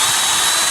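A power drill drives a screw into a fastener, giving a short, loud, steady high-pitched motor whine heard up close.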